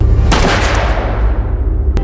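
A single loud gunshot rings out in a film scene, a sharp broadband blast with a long decaying tail, followed by a brief second crack near the end.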